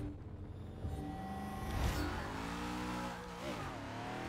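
A Shelby without a roll cage launches in a Forza 6 quarter-mile drag race, engine revving and climbing through gear changes with rising and falling pitch sweeps, steady and close.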